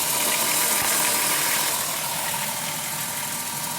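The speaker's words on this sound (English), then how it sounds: "Compressor's making weird noises down there. Ka-dunk, ka-dunk, ka-dunk" The AC compressor on a 2005 Chrysler Town & Country runs under the hood with a steady engine drone and a faint rhythmic knocking mixed into the noise, heard close and loud throughout.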